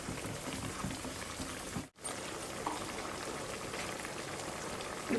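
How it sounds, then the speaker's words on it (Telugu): A pot of bottle gourd pulusu bubbles on the stove, an even, gentle boiling burble with soft popping, close and faint, briefly dropping out before resuming. "ఈ పులుసు ఇలా మరిగేటప్పుడు"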